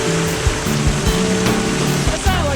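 Continuous rushing and splashing water in a toddler and kids' splash-and-play area at Volcano Bay water park, with bursts of spray over a steady wash and no voices.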